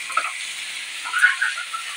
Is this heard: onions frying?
yes